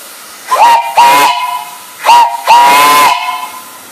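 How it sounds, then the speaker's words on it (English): The whistle on a large steam engine boiler gives four close, loud blasts, two short toots followed by a brief one and a longer sustained shriek, each with a hissy steam edge. "I'll run the whistle here."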